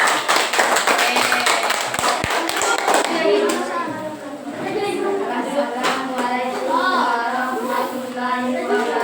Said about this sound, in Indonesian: ya kita berikan aplaus untuk kelompok 2